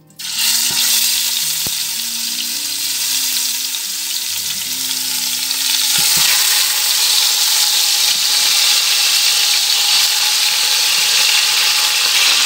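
Veal pieces drop into hot table oil and a second oil in a cooking pot, setting off a loud, steady sizzle that grows fuller and keeps hissing, with a few stirring clinks early on.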